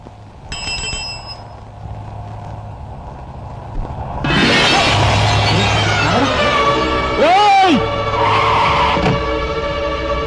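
A car brakes hard and its tyres squeal to a sudden stop, with loud sliding screeches rising over the engine noise, followed by a sharp horn-like tone and people speaking nearby.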